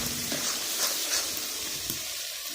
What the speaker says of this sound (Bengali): আমি এই যে জাল মরিচ দিয়ে এখন এগুলো সুন্দর করে কষিয়ে নেব